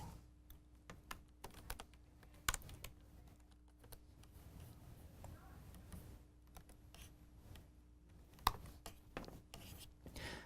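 Quiet clicking of a computer keyboard as code is typed, irregular keystrokes with a few sharper taps, close and alone without talk.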